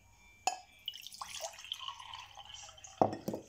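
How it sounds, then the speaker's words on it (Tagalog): Water trickling into a coffee mug, a quiet splashing pour with two sharp clinks against the cup, close and faint, no voices. "Ilagay natin itong tubig."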